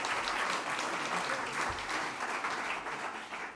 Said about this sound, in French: Donc je vous remercie de l'applaudir.